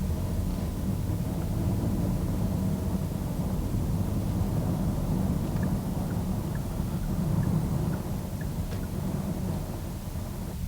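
Road noise inside a diesel Genesis GV80 with electronic suspension cruising at 60 to 90 km/h, a steady low rumble and wind hiss at constant level, no speech.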